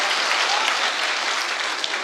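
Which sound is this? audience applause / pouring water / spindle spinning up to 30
audience applause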